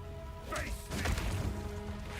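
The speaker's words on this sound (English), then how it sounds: "That's the Bone Shatter." Heavy slam from the Bone Shatter ability in the video game Path of Exile 2: a crunching impact with a whooshing swing, thudding over continuous game music and ambience.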